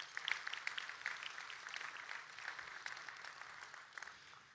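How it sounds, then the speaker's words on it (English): Applause from an audience at a city's State of the City event, a steady wash of many hands clapping at moderate distance, sustained throughout without voices on top. "Big round of applause for all of them."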